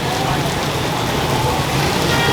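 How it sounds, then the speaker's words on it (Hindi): Heavy rain pours down at a Lahore street food spot, a dense, steady hiss of drops hitting surfaces, loud and close throughout with no talk over it. "फुल तेज़ किस्म की बारिश शुरू हो गई है।"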